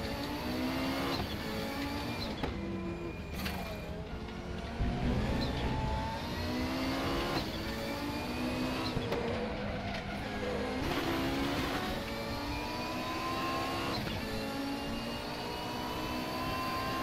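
A turbocharged Audi 90 engine in a racing video game, with a broken turbo, revs hard and continuously. The rising and falling engine whine comes through in repeated gear-change sweeps, loud and close throughout.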